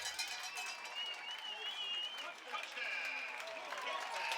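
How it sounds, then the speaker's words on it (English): A football stadium crowd at a high school game between North Penn and Pennridge cheers and applauds a touchdown, a steady wash of distant clapping and shouting that holds throughout. "there you see the crowd's approval"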